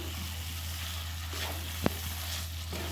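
Chicken frying with ginger-garlic paste for chicken kosha, a soft continuous sizzle over a low hum, with one sharp utensil clink midway.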